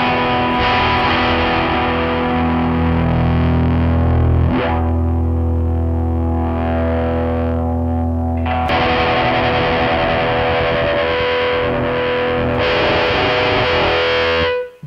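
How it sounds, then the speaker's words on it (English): Electric guitar run through a Preamp Mkii pedal with wah-style sweeps, sustained distorted chords ringing loud and steady, with brief shifts in tone and a short pause around the middle before strumming resumes, no talking. "Let's grab a guitar."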